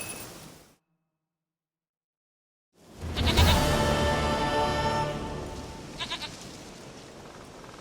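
A goat in The Witcher 3: Wild Hunt lets out a loud, close, drawn-out bleat after a moment of silence, trailing into a long wavering cry with a softer bleat near the end and light rain in the background.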